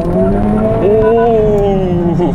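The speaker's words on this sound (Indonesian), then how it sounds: "Suara mesin dan knalpot juga jadi sekarang lebih kedengeran." A Honda Civic Type R with an upgraded exhaust revs hard and loud, the pitch climbing and holding in a strong roar, heard up close.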